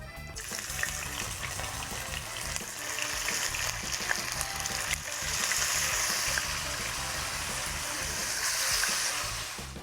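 Turtle meat dusted with flour browns in a pot, giving a loud, continuous close sizzle and crackle that swells midway and carries on steadily.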